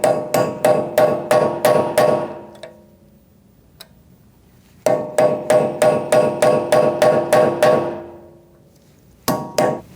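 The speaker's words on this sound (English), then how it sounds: "We're going to unpeen our axle nut and then remove it. I'm just using a punch." Sharp metal hammer blows drive a punch to unpeen the rear axle nut on a 2008-2014 Mercedes-Benz C300, fast even bursts of about eight strikes, a pause, another run, then a few more, loud and close.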